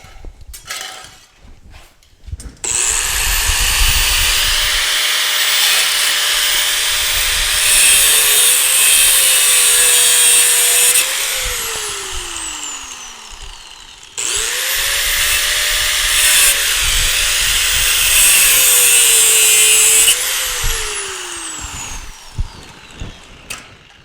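A power saw cuts metal to length for a welded battery box in two long, loud passes with a harsh whining tone that sags near the end of each cut, separated by a short pause.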